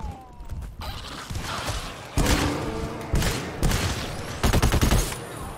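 Gunfire in the co-op shooter GTFO: several loud bursts of rapid shots and heavy blasts, repeating through the clip in clustered volleys with short pauses, close and dominant, no talk.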